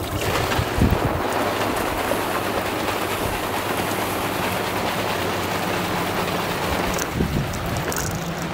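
Water spraying from an inflatable pool sprayer fills the scene as a steady, close, broadband hiss that continues unbroken throughout, with no talk.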